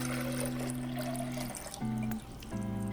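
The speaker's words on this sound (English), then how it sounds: "To your blender, add 1 cup water" A cup of water pours into a blender for homemade vegan cheese, a soft steady splashing trickle under gentle background music.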